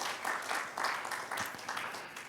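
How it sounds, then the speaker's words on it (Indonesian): Quiet applause from a church congregation during a Sunday service, a soft rippling patter of clapping in gentle swells over a couple of seconds, somewhat distant. "Yang percaya boleh tepuk tangan bagi Tuhan Yesus."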